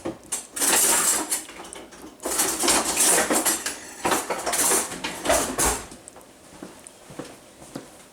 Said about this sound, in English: we're gonna mix all that up before we start putting flour in it.